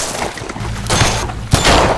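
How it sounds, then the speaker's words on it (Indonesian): Gunfire in a film scene, two sharp bursts of shots over a dense, rumbling soundtrack. "tanpa diduga-duga Dr. Hope malah ditembak oleh rekannya di sana"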